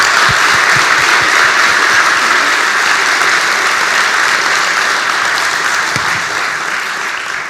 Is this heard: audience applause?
yes